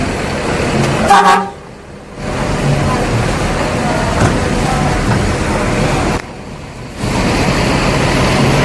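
Departing ANS bus bound for West Sumatra, with a loud horn honking in a few blasts over steady engine and traffic rumble, close by, amid brief pauses.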